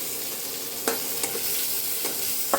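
Chopped onion and garlic with a dried red chilli frying in hot oil, an even crackling sizzle broken by a few quick spatula scrapes, close and steady with no speech.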